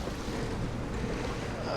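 Blustery wind at sea aboard a heeled-over sailing boat, a loud continuous broadband roar of wind buffeting the microphone with rushing water beneath, steady throughout.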